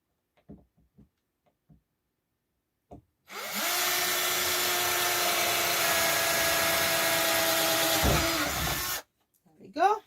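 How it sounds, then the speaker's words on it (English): A power drill bores a hole through an upcycled cupboard door backed with cork flooring, starting abruptly after a few light knocks, whirring loudly and steadily for about six seconds, then stopping dead. "I'm going to bore my hole 1 inch from the cork"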